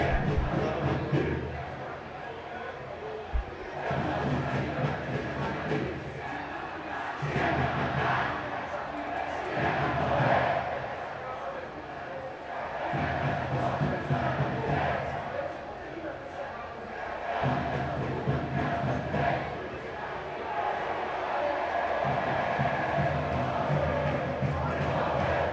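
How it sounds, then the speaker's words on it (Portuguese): Vitória football supporters chanting battle cries in a stadium after a late equaliser, a massed crowd roar that surges and falls in repeated waves over about twenty-five seconds. "gritos de guerra da torcida do Vitória"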